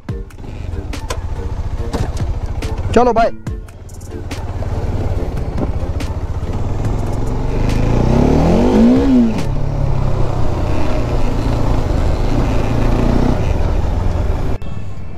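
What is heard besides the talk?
Bajaj Dominar motorcycle engine starting and revving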